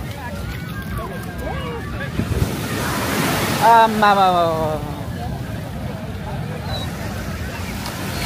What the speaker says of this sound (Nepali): अहिले बेलुकी हुँदै गएपछि झन् पानीको छाल झन् मजाले आइरहेछ